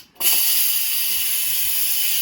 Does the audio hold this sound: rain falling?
no